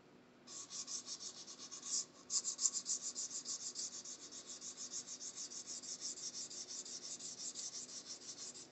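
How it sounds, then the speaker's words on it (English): Fine 320 grit sandpaper rubbing lightly over a raised guitar fret, a steady rhythmic scratchy swishing of quick back-and-forth strokes, close and continuous with a brief pause near the start, no talk. "Lighter is always better with sandpaper."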